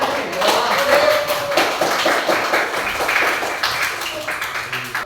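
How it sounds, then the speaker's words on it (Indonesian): A school religious-studies class clapping hands together, a loud burst of rhythmic, slightly uneven claps that slows and thins toward the end, with children's voices underneath. "Ayo tepuk tangan"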